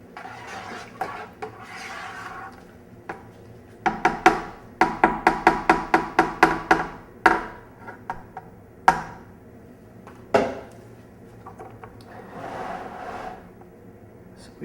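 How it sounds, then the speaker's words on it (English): A sulfited stirring rod stirs wine kit must in a fermenting vessel, producing loud, rhythmic knocking and sloshing strokes in a rapid burst midway, with scattered slower strokes before and after. "Once again, our sulfited stirring rod here. Get that in and really incorporate it."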